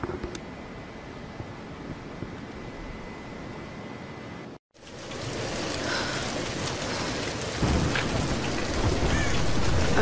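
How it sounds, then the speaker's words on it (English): A storm in the 2013 Tomb Raider game brings steady heavy rain with low rumbling thunder. The downpour cuts out briefly, then returns fuller and louder, with no talk over it. "We're getting closer to the storm."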